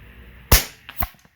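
One sharp shot from a .25 Avenger air rifle firing an H&N 28-grain slug, loud and close. The muzzle crack is followed about half a second later by a fainter impact or echo.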